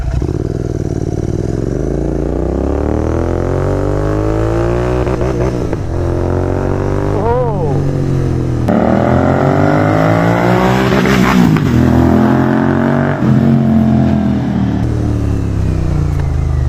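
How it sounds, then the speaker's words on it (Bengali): A GT650 motorcycle makes a first-gear flyby, its loud engine rising and falling in pitch as it approaches and passes close by, heard alone without talk. "এখান দিয়ে একটা ফ্লাইবাই শুট করলে কিছু বলবে ফার্স্ট গিয়ারে ফ্লাইবাই হবে ফার্স্ট গিয়ারে"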